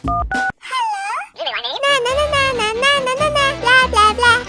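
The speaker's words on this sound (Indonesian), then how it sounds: "Diana, jangan bermain-main dengan telepon hotel" A child presses buttons on a hotel telephone, sounding a few short dialing beeps at the start, then a voice sings and babbles loudly over background music.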